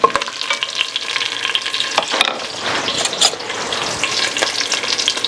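Rendered bacon sizzling and frying in a pot for smoked chili while a spoon stirs and scrapes through it, a steady close crackle with clinks of the utensil.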